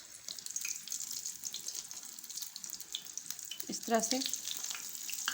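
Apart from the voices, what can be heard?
aloo macaroni cutlets frying on low flame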